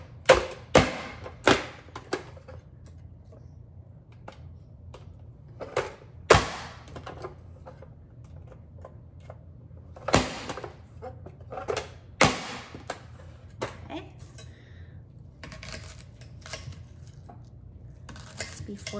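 Onion quarters being chopped in a small onion cutter tool, a run of sharp hard clacks and thuds, some in quick bursts and some spaced apart, with quieter taps between them.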